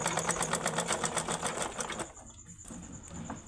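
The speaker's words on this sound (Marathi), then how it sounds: "पाव इंच आपल्याला बघा गोल पूर्ण शिलाई मारून घ्यायची आहे" Sewing machine stitching a round seam in fabric for a decorative latkan tassel, a steady rapid mechanical clatter for about two seconds before stopping, close and alone.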